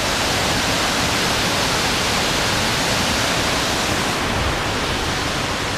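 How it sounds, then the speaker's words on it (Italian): Water rushing down a waterfall beside an outdoor restaurant dining area, a loud, steady broadband roar that fills the whole stretch without pause. "perché qui abbiamo una bella cascata"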